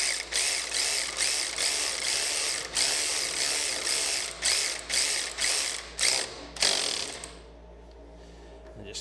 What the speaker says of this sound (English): I'll just hit these with the ratchet